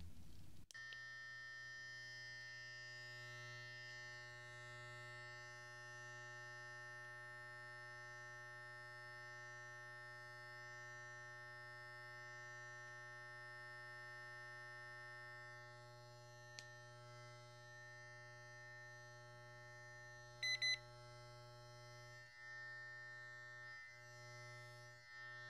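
A sonic facial brush gives a steady electric buzz for the whole stretch, with a short timer beep near the end.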